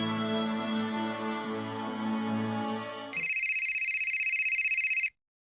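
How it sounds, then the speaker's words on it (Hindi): An unanswered telephone rings with a steady, bright electronic warble, loud and close, sounding alone for about two seconds after a music-filled passage before stopping abruptly. "कोई फोन क्यों नहीं उठा रहा है?"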